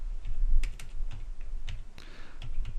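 Computer keyboard keys tapped in irregular bursts, close and fairly clear, while data is entered into an Excel spreadsheet; no voices.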